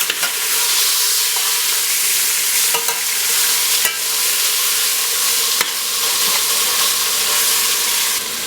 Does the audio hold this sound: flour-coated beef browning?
yes